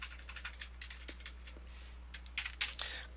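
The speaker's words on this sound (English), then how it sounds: "I'm going to go ahead and just type in" Fingers type on a computer keyboard in quick, irregular bursts of soft clicks, close and faint over a low steady hum, with no voices.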